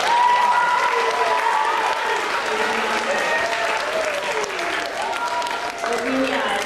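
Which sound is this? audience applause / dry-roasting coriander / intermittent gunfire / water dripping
audience applause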